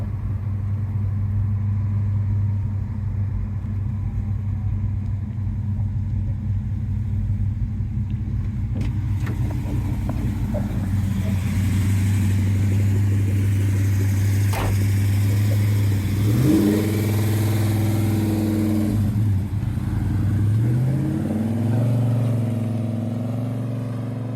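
A 1970 Chevelle SS with a 454 LS5 V8 and four-speed idles with a deep, steady rumble, then revs and accelerates hard in loud rising sweeps before settling back, close and alone with no talk.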